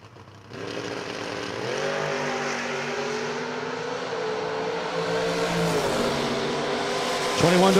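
Drag racing cars, including the Estes Oil Camaro, roar loudly and steadily as their engines rev at the start line, ending with a sharp rise in pitch and power near the end.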